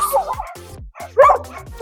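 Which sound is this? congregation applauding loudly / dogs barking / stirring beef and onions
dogs barking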